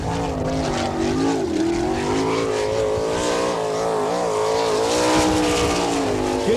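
A sprint car engine howls at full throttle through a qualifying lap at Attica, Ohio, its pitch rising and falling steadily as it revs through the corners, loud and continuous with no talk over it.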